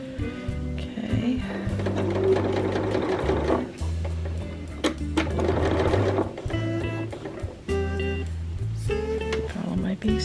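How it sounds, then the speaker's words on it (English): A sewing machine back stitching a tight sleeve during an alteration, running in several loud rhythmic bursts separated by short pauses, with close-up clatter of the mechanism. "the next thing is I'm going to be sewing it. Just a little back stitch."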